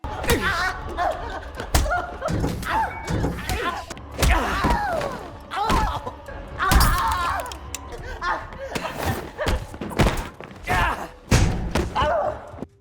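Film sound effects of a man being beaten fill the scene, with repeated heavy thuds, slams and smacking blows in uneven bursts, mixed with voices and grunts throughout.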